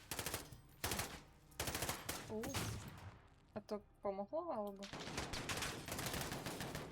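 Bursts of automatic gunfire in the video game Call of Duty Modern Warfare come in loud rapid volleys, broken by brief pauses, while a player speaks between and over the shots.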